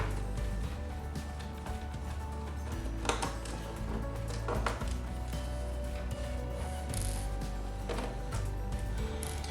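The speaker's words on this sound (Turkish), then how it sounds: "Önce vidalarımızı sökeceğiz." Screws are unscrewed from the case of a Dell Inspiron 15 3580 laptop, heard as close, repeated ratcheting clicks and small metallic scrapes against a steady background.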